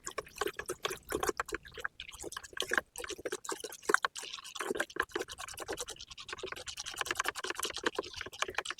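Fungicide powder is stirred into a small amount of water to make a thick mix, producing a busy run of wet clicks, scrapes and drips, close and continuous with brief pauses.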